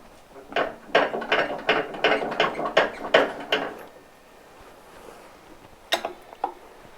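A ratchet wrench clicks in a quick rhythmic burst of about a dozen strokes on a lawn mower engine with the spark plugs removed, then pauses and gives a few more clicks, close and clear.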